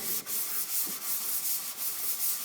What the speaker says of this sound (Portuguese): vocês vão lixar a superfície de tal forma que, primeiro, vocês podem ver aqui que as marcas de lápis sumiram